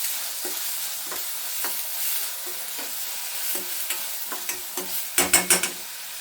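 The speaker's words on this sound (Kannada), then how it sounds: "ಚೆನ್ನಾಗಿ ಫ್ರೈ ಆಗಲಿ" Steady soft sizzle of onions or spices frying in oil in a pan for egg gravy, with repeated stirring scrapes and a few louder clatters of a spoon against the pan toward the end.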